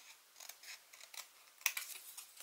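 Scissors cutting a paper card, a series of quiet, crisp snips at an irregular pace, close up and alone, with one sharper cut near the end.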